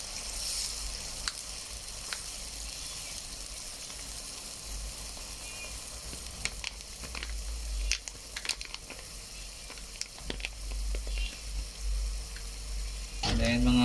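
Garlic, ginger and onion sautéing for ginataang tilapia give a steady close sizzle with light scraping clicks, then the sound shifts abruptly at the very end as coconut milk goes into the pan.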